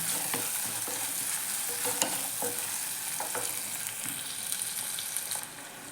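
Small onions (shallots) sauté in a pan for drumstick mezhukkupuratti, giving a continuous even sizzle broken by light scraping and tapping from stirring, with no one talking.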